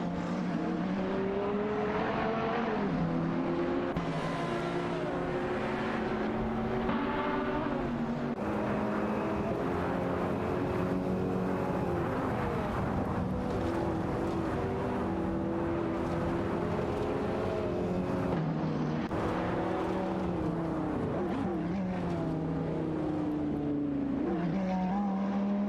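Race car engines from a racing video game, a Mazda NT900 and a Porsche 911 991 Turbo, wind up and down in steady pitch sweeps. The loud, continuous drone lasts throughout with no one speaking.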